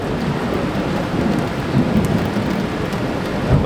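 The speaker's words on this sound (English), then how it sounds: "bolt of lightning and rumble of thunder" Steady heavy rain in an Ohio thunderstorm with a low rolling rumble of nearby thunder beneath it, continuous and fairly loud.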